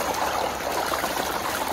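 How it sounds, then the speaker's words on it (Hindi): Cold water from a tubewell runs through farm fields with a continuous splashing, babbling flow, close and steady throughout, with no one speaking. "बहुत ठंडा एंड अच्छा पानी है भाई नहाने के लिए"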